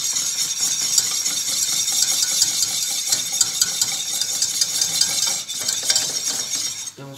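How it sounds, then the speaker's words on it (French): Flour stirred into melted butter in a pan makes a continuous close scraping hiss with faint metallic clinks throughout and no voices. "Le beurre est fondu, j'incorpore la farine."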